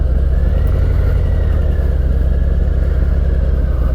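A 2019 Harley-Davidson Heritage Classic 114 with the Milwaukee-Eight engine, ridden at low speed while maneuvering: a steady, deep, close engine rumble held at an even pace throughout, with no voices.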